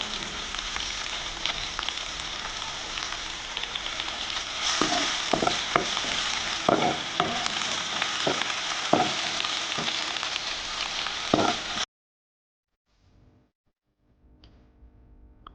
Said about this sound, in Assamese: পিঁয়াজখিনিও দি ফ্ৰাই কৰি ল'ম অলপ দেৰি।